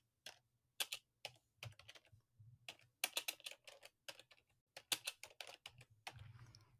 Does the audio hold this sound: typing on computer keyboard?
yes